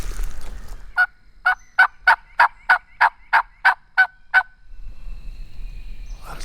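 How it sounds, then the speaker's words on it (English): Wild turkey hens yelp in the woods a couple hundred yards off, giving a steady run of about a dozen evenly spaced, fairly loud calls over soft outdoor background noise. "we can occasionally hear those hens yelping out there a couple 100 yards away"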